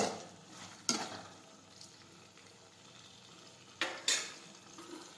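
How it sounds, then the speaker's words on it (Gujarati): Okra (bhindi) being sautéed in a pan, a soft low sizzle with a few sharp scrapes and clinks of a spatula stirring against the pan, quiet and close with no talking. "ફરી આ રીતે આપણે સાતળી લઈશું. થોડી વાર આપણે સાતળશું."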